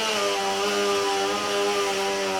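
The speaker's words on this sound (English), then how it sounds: "What good is a bank if the music doesn't feature a chainsaw solo?" A chainsaw solo in music, a loud sustained buzzing drone with rich harmonics, continuous and alone with no talk.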